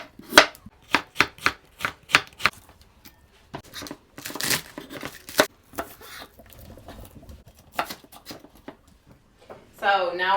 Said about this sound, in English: Now I'm going to chop up the carrots, the radish, and the scallions into thin strips